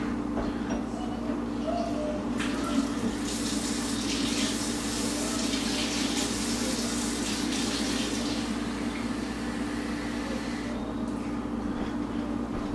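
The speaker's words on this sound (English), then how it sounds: "Then you go over to your sink, you take the 1 cup, and you get warm water." Warm water runs steadily from a kitchen sink tap while bread dough is being made, a continuous splashing hiss that swells louder midway and then settles back, with no talking.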